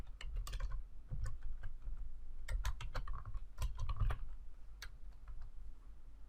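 Computer keyboard typing while a new calculated field is named in a database report builder: a steady run of sharp, close key clicks at an uneven pace, alone with no talk.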